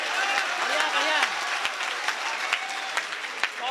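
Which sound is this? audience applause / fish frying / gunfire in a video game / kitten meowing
audience applause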